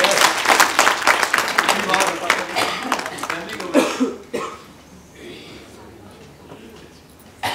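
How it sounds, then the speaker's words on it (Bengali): An audience claps loudly in a dense, sustained burst at a cultural and awards ceremony, cheering an honoured guest, then the applause thins and fades out within a few seconds, leaving quieter room noise. "জন্য জোরে করতালি হবে, জোরে করতালি"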